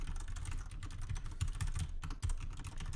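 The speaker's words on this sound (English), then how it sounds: "and I type in some code" Quick, continuous typing of code on a computer keyboard, dense close clacks of keys in a brisk, uneven rhythm with no talking.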